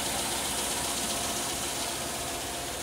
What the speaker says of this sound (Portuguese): Pronto, nosso motor tá aquecido, ó. Funcionando redondinho, ó.